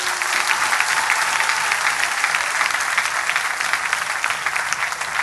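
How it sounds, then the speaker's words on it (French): A church congregation applauds during a spiritual message, giving a steady, dense wash of clapping that holds at an even level through the whole stretch with no speech over it. "on applaudit pour l'église là."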